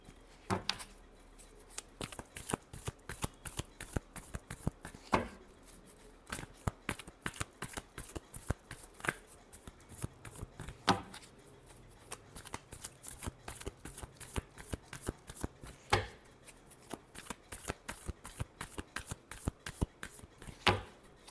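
Tarot cards are shuffled by hand in a quiet room, a long run of crisp, close riffling and slapping bursts in an uneven rhythm with short pauses between.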